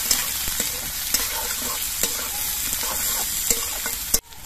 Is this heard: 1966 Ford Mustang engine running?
no